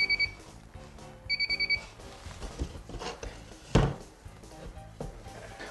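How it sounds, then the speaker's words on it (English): Moisture meter beeping against water-damaged drywall at the line where water has wicked up, a short run of bright repeated electronic beeps near the start, with faint clatter and a single knock afterward. "Should start beeping right about that line."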